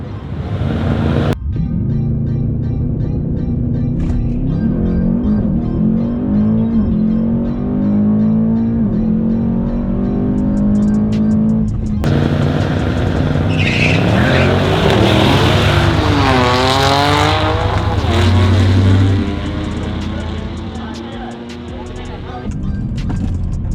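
Mercedes E63S AMG, a 700 hp sedan, launching on slicks in a drag race down the strip, its engine roaring loud and close and rising through the gears, with a commentator talking over it.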